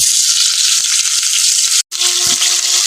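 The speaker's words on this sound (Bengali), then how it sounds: "বেগুনগুলোকে প্রথমে আমি ভেজে নেব।" Slices of eggplant fry loudly in hot oil, a steady close dense sizzle with a brief cut, then the frying carries on with a faint clink.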